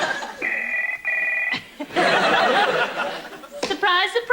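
An old telephone rings in two short trilling bursts on a 1989 dating game show set, followed by studio laughter and chatter.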